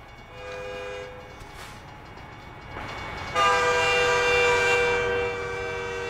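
A train horn blares in American Truck Simulator, sounding in sustained harmonic blasts that swell louder midway as the train passes close by, over a low rumbling engine bed.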